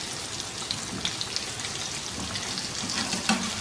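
Chicken tempura pieces frying in hot oil, a steady dense sizzle and crackle with occasional sharper pops, close and continuous throughout with no voices.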